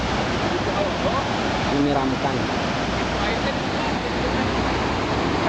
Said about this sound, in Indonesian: Inilah Sanghyang Tekoro, merupakan contoh sungai bawah tanah